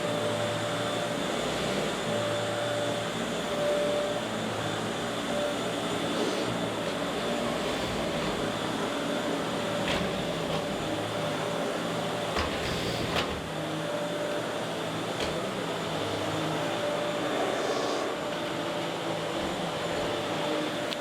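A vacuum cleaner runs steadily while picking up carpet powder, its motor drone and airflow hiss loud and unbroken for about twenty seconds, with a few faint clicks of debris passing through.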